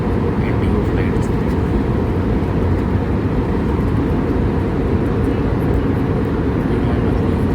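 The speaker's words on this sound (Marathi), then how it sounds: "विमानाचं इंजिनचं आहे मला साईडला" An IndiGo airliner's jet engine roars steadily in flight, heard from a cabin seat beside the engine on a Pune to Ahmedabad trip, a loud continuous low rumble throughout.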